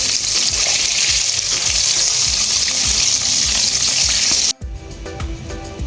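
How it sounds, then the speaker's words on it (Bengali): Chicken pieces frying in hot oil for homemade chicken fry, a loud, dense, continuous sizzle close by that cuts off abruptly near the end, leaving a quieter, softer crackle. "ফ্রাই করার জন্য চিকেনগুলো আবার ছেড়ে দিচ্ছি"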